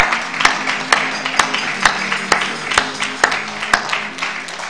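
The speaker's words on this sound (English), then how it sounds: "Let us give our youth another hand clap of praise." A church congregation claps their hands in praise, sharp, evenly spaced claps about twice a second against a sustained musical backdrop, steady and fairly close throughout.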